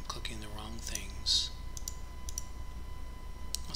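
Sharp mouse clicks come from a turn-based space strategy game, Master of Orion, scattered irregularly and fairly close, with a voice speaking briefly at the start.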